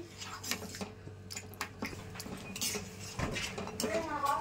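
A spoon scrapes and clinks against a metal pot as fresh cream is mixed into a white mutton gravy, a close, busy run of metallic stirring with a few louder knocks.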